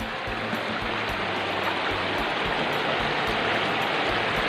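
A small stream flows steadily in rural Thailand where people are cast-netting for red-tailed rasbora, with a constant broadband rush of water and light splashing throughout, no talking.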